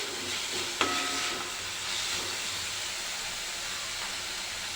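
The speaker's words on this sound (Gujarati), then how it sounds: "આ વાટેલા આદુ અને મરચાં લીધેલા છે તે લઈને બરાબર મિક્સ કરી દઈશું। સાતળી લઈશું આપણે બરાબર।" Green garlic, coriander leaves, spring onion greens, ginger and chilli filling sautéing in a pan: a steady, close frying hiss runs throughout, with one brief clink near the start and no voices.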